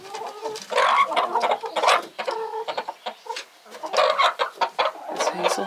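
Stressed hens clucking and squawking in a farmyard, bursts of agitated calls coming in irregular clusters, fairly close and lively, with a few brief pauses between outbursts and no talking.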